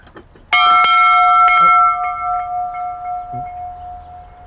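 A single bell rings to mark opening time at a living museum, one sharp struck tone followed by a long, slowly fading ring that hums on for several seconds, close and loud.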